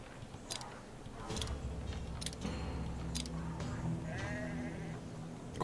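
Sheep on a farm in the city-building game Anno 1800 bleat several times over a steady ambient bed, with short clicking sounds scattered throughout.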